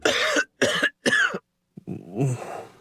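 Three harsh coughs from someone with a cold or flu in quick succession, loud and close, followed after a pause by a raspy throat-clearing, congested groan.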